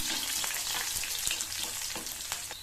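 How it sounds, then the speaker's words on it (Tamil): Garlic cloves sauté in hot oil with fenugreek for bitter gourd kuzhambu, a dense continuous sizzle close by with faint scrapes of stirring and no talk. "இந்த பூண்டை லைட்டா வதக்கி வச்சுக்கலாம்."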